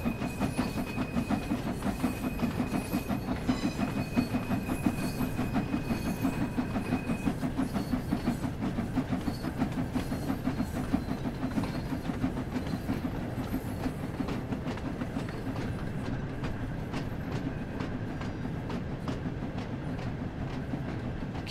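A heavy train hauled by a steam locomotive slowly gets under way, giving a steady loud rumble with rhythmic chuffing and clanking, and a faint hiss of steam continuing throughout.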